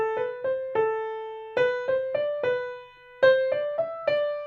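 A beginner-level piano piece played with a faltering, uneven rhythm; single clear notes and short chords land at irregular intervals with hesitant gaps, heard alone and fairly close.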